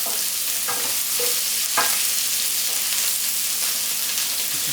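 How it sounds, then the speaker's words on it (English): Cauliflower and potato for aloo gobi sizzle steadily as they fry in a pan, with a few scraping stirs cutting through the constant crackling hiss. "give it a quick stir through and colour up a little bit on the sides"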